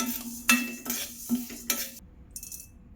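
Toor dal roasting dry in a pan, stirred with a metal spoon: a few scraping, clinking strokes over a faint sizzle, close and quiet, with no talk.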